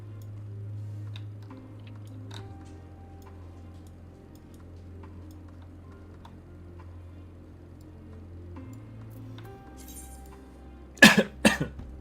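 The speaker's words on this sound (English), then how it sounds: "And the cough begins." A quiet room with low hum and faint ticks, then a short burst of two or three harsh coughs near the end.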